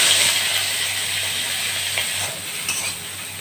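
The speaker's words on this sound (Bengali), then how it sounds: "তো চিংড়ি মাছ ভাজা হয়ে গেছে" Shrimp frying in oil in a pan, a steady, fairly loud sizzle with a few faint scrapes of stirring and a low hum behind it.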